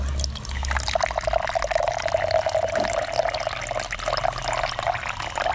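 Water pours steadily at a construction site where cement is being mixed with water and ice, a continuous splashing flow at close range with no talk over it.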